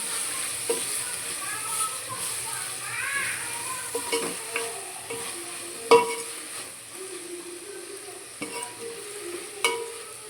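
Washed fenugreek sizzles in a hot pan, a continuous soft frying hiss broken by occasional stirring scrapes and clinks of a utensil against the pan, close and fairly quiet.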